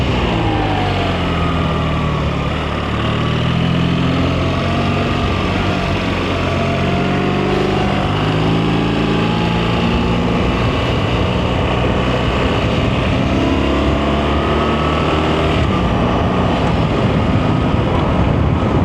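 A BMW R1300RT motorcycle engine pulls through a roundabout in road mode with gentle throttle, its loud droning note rising and falling in smooth sweeps as it shifts, close and continuous under wind noise.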